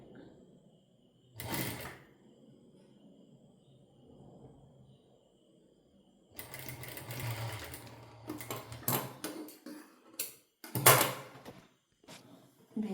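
A sewing machine stitches a blouse back in short bursts separated by pauses, with a few faint clicks and handling knocks between runs; no talking.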